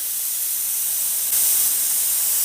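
Air hisses out of a paint spray gun as the trigger is held to purge a disposable cup before painting a bumper cover, a steady close spray that grows slightly louder partway through.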